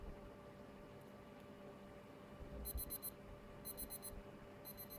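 A credit-card-shaped kitchen timer bought online beeps its alarm in three short bursts of rapid high-pitched chirps, clear over a quiet room hum.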